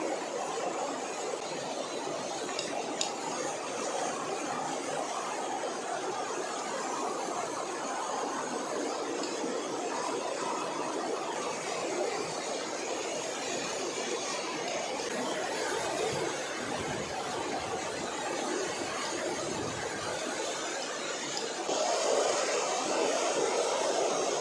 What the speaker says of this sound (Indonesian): air terlebih dahulu disaring menggunakan mesin ATR